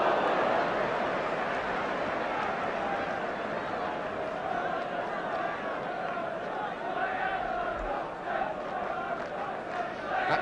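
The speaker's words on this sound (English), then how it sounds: "That's the Roker end of the ground, the crowd well packed there." Roar of a packed football crowd at the Roker end during Sunderland versus Tottenham, a steady dense wash of distant voices throughout, with a commentator talking over it.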